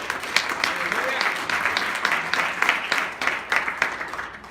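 Church congregation applauding during a Spanish-language sermon, a steady wash of many hands clapping at moderate distance with no voices over it.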